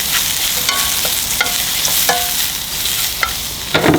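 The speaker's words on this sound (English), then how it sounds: "Once we get a nice little sear on them, you can see they're starting to wilt just a little bit." Mushrooms searing in a hot pan, a continuous close sizzle broken by several scraping stirs and clicks of a utensil against the pan.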